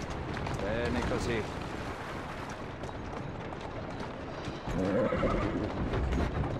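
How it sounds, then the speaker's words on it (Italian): A horse in Assassin's Creed Syndicate whinnies in two short bursts, one near the start and another around the five-second mark, over a steady game background while someone talks calmly throughout. "Che cavallo ubbidiente."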